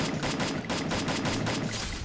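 Rapid gunfire from the Free Fire battle royale video game, a dense, loud burst of repeated shots running continuously with no talking over it.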